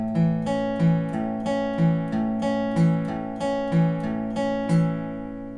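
A steady guitar picking pattern rings out across the strings in an even repeating rhythm, each pluck clear and close with sustained ringing notes.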